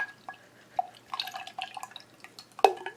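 Paintbrush tapped against a jar of water while cleaning off acrylic paint, giving a few light, close drips and small clicks scattered across a quiet background.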